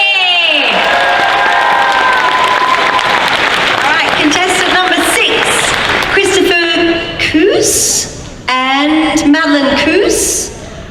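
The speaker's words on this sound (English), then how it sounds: "Let's give her a big round of applause, Whitney!" Loud crowd applause, cheers and whoops at the Dragon Con Friday night costume contest, swelling at first and then continuing under a presenter's amplified talk and shouts from the audience.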